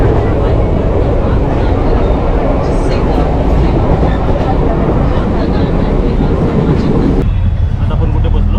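A Mumbai suburban local train at a Dombivli station platform, a loud continuous rail rumble and roar of carriages passing close by, which cuts off abruptly near the end with people talking underneath.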